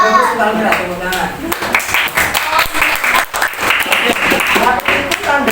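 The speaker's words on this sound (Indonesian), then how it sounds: "sekalian tepuk tangan" A class of students in a school lesson breaks into clapping, a lively spread of many hands rising and falling in uneven waves, close and fairly loud, with voices talking over it throughout.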